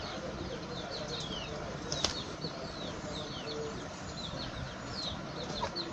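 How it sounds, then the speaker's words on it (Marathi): Chickens fighting at a village home in Ratnagiri, with wings flapping in bursts over a steady outdoor background and faint clucks and bird calls. "कोंबडी बघा कशी झुजतात आहे, म्हणजे कुस्ती करतात आहेत, एकमेकांना मारतात आहेत."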